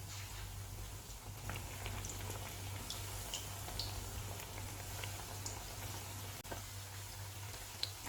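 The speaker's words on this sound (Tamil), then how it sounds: "பச்சி பொரிக்க தேவையான அளவு எண்ணெய் வச்சுருக்கேன். எண்ணெய் காஞ்சிடுச்சு, ஒவ்வொன்றா சேர்த்துடலாம்." Steady crackling sizzle of bajji fritters frying in hot oil, with faint pops and clicks scattered throughout, continuous and close.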